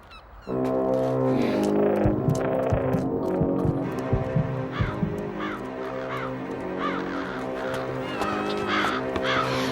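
Crows in a cartoon caw in repeated harsh calls over a loud, droning sustained tone and busy background scoring.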